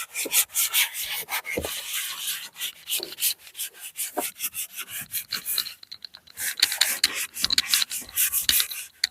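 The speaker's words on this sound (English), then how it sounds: "you want to take the sponge and you want to go in a circular motion with this" Sponge scrubbing a cracked, dry leather car seat in circular motions, a steady close rubbing and swishing texture with rhythmic pulses and no talking.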